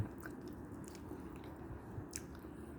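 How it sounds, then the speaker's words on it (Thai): Soft, close chewing of a bite of unripe, out-of-season durian, a quiet moist squish and mash over a few seconds in an otherwise still room. "แล้วชิมอีกคำหนึ่ง"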